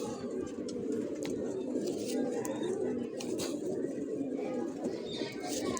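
Racing pigeons coo in low, throaty murmurs that run continuously, with faint chirps and background noise mixed in.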